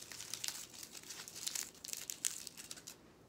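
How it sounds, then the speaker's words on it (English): Tin foil crumpled by hand close up, a continuous run of sharp crinkling bursts lasting about three seconds, quiet and heard alone. "It's tin foil."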